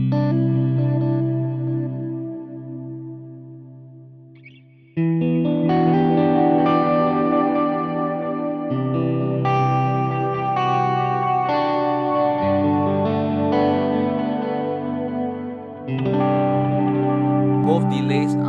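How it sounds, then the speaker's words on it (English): An electric guitar plays through a Line 6 HX Stomp XL with two delays on, giving a rhythmic galloping echo. Sustained chords ring out loud and clear with effects and repeats, briefly thinning before a sudden full-volume return. "both delays are on, so you can hear that gallop"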